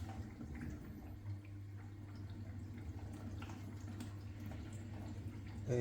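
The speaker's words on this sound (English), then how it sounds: "Now it's filling the water. You can hear the noise. This is the filling noise." A Zanussi dishwasher with a fault fills with water, giving a steady low mechanical hum and a faint constant trickle that run evenly throughout at moderate level.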